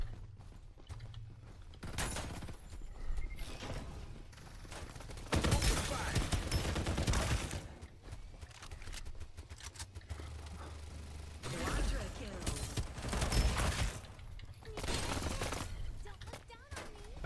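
Sniper gunfire in the battle-royale video game Farlight 84, sharp loud shots and bursts scattered through a busy stretch of game sound with mechanical clanks and creaks, players' voices talking over it.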